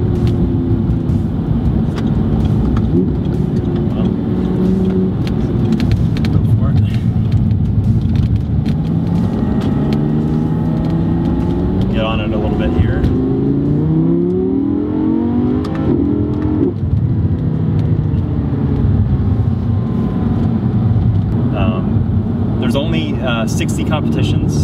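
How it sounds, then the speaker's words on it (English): An Audi R8 V10 in sport mode with its exhaust opened up drones and revs steadily, the engine note rising and falling through gears, loud and close, with a person talking over it. "put it in sport mode and that opens up the exhaust so you can get some good good sounds out of the car"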